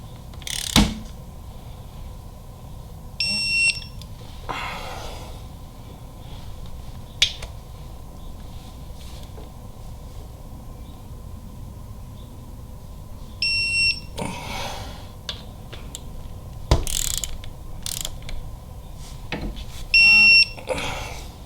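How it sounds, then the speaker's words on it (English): Torque wrench tightening bolts on a Harley-Davidson Milwaukee-Eight engine during a cam install, sharp clicks scattered through the clip with faint metallic rattles over a steady low shop hum. "we're torquing these following the factory torque sequence"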